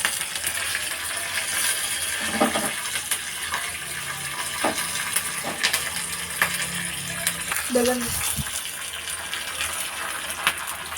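Dried red chillies, urad dal and curry leaves crackle and sizzle in hot oil for a tempering, a continuous close frying hiss with occasional spoon clinks and stirring, and a voice speaking faintly.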